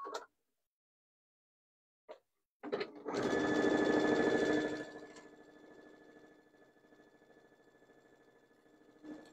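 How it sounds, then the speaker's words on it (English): A sewing machine runs across the bottom edge of fabric, whirring up loud and close for a couple of seconds, then easing into a softer, slower hum before stopping, with a few short clicks earlier. "And then we're going to sew here across the bottom."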